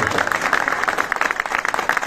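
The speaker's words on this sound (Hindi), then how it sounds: "एक बार आप जोर से तालियां बजाओ," Loud, dense applause from an audience at a Hindi-language public event where a cabinet minister speaks about a commando defence academy, steady clapping filling the short stretch with no voices on top.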